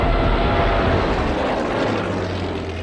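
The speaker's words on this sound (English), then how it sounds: "his remaining 123 working bomber planes launch a series of raids on Grozny" Propeller-driven WWII bomber aircraft flying over during bombing raids on Grozny, a loud, steady droning engine roar that holds constant throughout and eases slightly toward the end.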